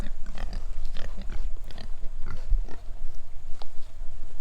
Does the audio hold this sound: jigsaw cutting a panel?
no